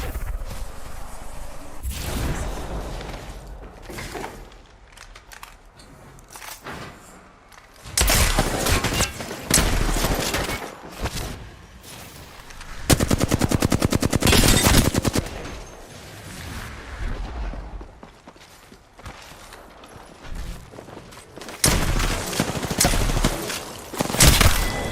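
Gunfire in Apex Legends, coming in loud bursts of rapid automatic shots with short pauses between volleys, plus a sustained rattling barrage mid-way and more fire toward the end, close and dominant.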